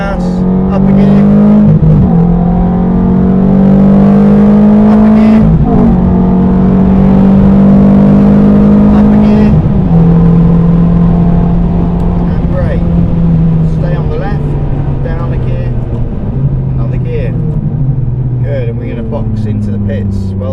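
A supercar accelerates hard on the Silverstone circuit, its engine note climbing through repeated gear changes with loud, close revving from inside the cabin, while a voice talks over it.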